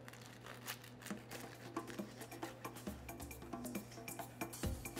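Knife sawing through a steak sandwich stacked with shredded iceberg lettuce and chips: close, soft crunchy crackling and crinkling strokes in a steady rhythm, fairly quiet, with a low hum beneath and no talk.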